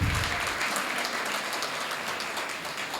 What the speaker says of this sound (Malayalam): എല്ലാ വിശിഷ്ടാതിഥികളെയും നല്ലൊരു കയ്യടി കൊടുത്ത് നമുക്ക് സ്വാഗതം ചെയ്യാം